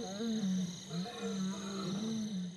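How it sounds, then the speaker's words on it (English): Lions roar in the distance in the wild, their deep, drawn-out calls rising and falling continuously over faint background hiss. "We're with Vumbi, and we hear roars in the distance"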